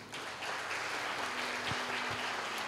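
Steady, dense applause from a church congregation, a continuous wash of many hands clapping at even loudness, with a faint low tone running beneath.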